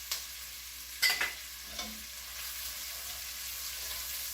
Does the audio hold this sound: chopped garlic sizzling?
yes